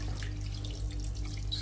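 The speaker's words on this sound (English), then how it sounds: "Add water just enough to cover." Steady flowing water like a running tap, poured into a pot over oxtail for a Jamaican oxtail dish with Scotch bonnet pepper, continuous and moderately loud with a constant low hum beneath.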